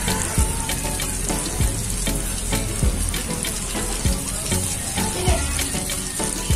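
Chicken coated Jollibee-style for crispy frying sizzles loudly and steadily in hot oil in a pan, a dense, continuous crackle with scattered louder pops throughout.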